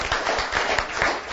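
Audience applause answering a comedian's call for a round of clapping, a dense burst of many hands clapping close and steady, filling the short moment without speech.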